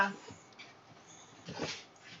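Indoors, a dog gives a few brief whimpers and yips close by while someone talks over it affectionately.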